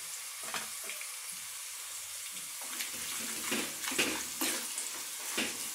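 Lemon rice ingredients frying in a pan, a continuous close sizzle with bursts of crackle and stirring scrapes that grow busier toward the end.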